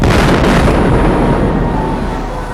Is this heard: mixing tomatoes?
no